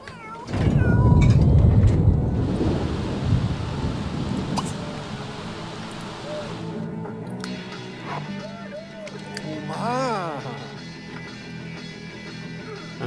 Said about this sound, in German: Jetzt müssen wir jemand um die Katze kümmern